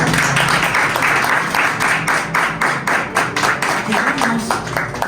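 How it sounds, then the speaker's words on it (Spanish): Members of a church congregation give loud, sustained applause, with strong individual claps standing out in a quick, uneven beat and some voices mixed in. "Un fuerte aplauso a Dios por la palabra"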